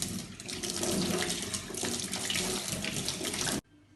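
Water runs steadily from a sink tap in a continuous close splashing rush, with hands moving under the stream, then stops abruptly just before the end.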